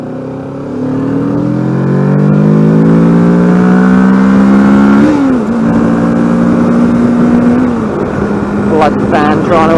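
Kawasaki Ninja 650 KRT motorcycle engine revving up hard while overtaking a car, the pitch climbing steadily, dipping at a gear change, then rising again, close and loud.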